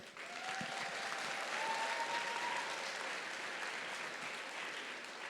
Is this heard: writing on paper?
no